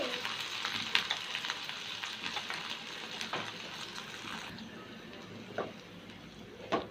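Two tablespoons of onion paste frying in soybean oil in a pan for a mustard hilsa curry, giving a steady close sizzle with occasional louder spits and crackles throughout.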